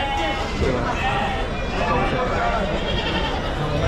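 Goats and sheep bleat repeatedly at the busy Chakan livestock market, their cries rising over a dense murmur of crowd chatter close by.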